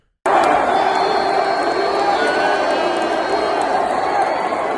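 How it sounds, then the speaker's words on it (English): A large crowd at a Trump rally roars steadily, with a broad sustained mass of voices that could be the start of a USA chant, loud and continuous throughout. "They're starting to chant USA and shit."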